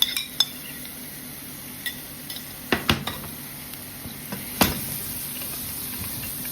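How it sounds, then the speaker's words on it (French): Onion sautéing in a frying pan makes a soft continuous sizzle, broken by occasional sharp clinks and scrapes of a utensil against the pan. "Fais revenir l'oignon."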